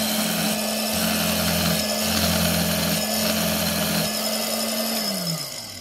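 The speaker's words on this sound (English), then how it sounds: "It's actually sharpening the knife." An RSD-100 4-inch electric rotary fabric cutter runs while sharpening its blade, giving a steady close motor whine with a grinding rasp that winds down at the end.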